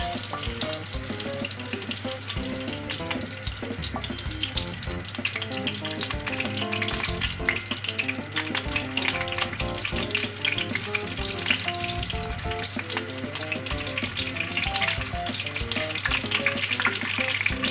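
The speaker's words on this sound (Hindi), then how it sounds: "ऑयल गरम हो गया है, इसमें मैं गरम मसाला डाल के थोड़ा फ्राई करूँगी।" Garam masala frying in hot oil for a bong ka salan (beef shank curry) makes a dense, continuous sizzle, loud and close throughout with no pauses.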